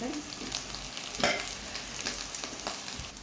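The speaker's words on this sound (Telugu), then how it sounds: "మొత్తం రైస్ మొత్తం వేసేసుకుందాం" Rice tipped into a hot pan and stir-fried for fried rice, with a steady sizzle and repeated scrapes and stirring strokes of a spatula, up close, no talking.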